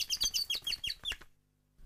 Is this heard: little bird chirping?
yes